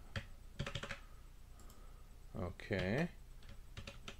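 Computer keyboard keys tap in short bursts while editing a file in the vi editor, with someone speaking briefly between the clicks.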